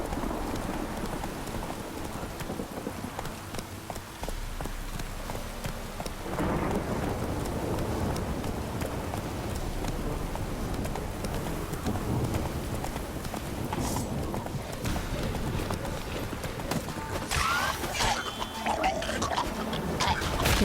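A horse gallops in The Witcher 3 video game, its hoofbeats drumming steadily and fairly loud through a dense wash of rain and rumbling storm noise.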